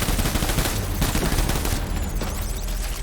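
Rapid automatic gunfire from the video game Death Stranding rattles loudly and continuously for a few seconds, a dense burst of shots with little pause.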